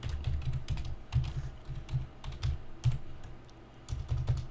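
Someone typing a username on a computer keyboard, with steady bursts of close keystrokes and soft thumps in irregular clusters, with no voices over them.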